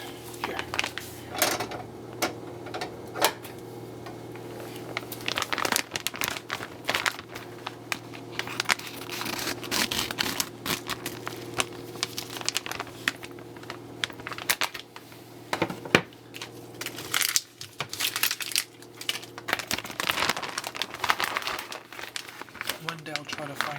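A large plastic bag of shredded cheese is snipped open with scissors and handled, giving a close, busy run of crinkling and rustling that continues throughout, with a few sharper clicks and speech in the kitchen over it.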